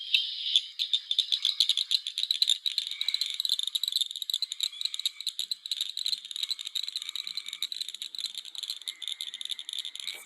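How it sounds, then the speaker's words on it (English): Northern cricket frog calling in a recording: a rapid, continuous series of sharp clicking rattles like marbles tapping together, steady and fairly loud for about ten seconds, with no voices. "Okay, northern cricket frog. Here we go."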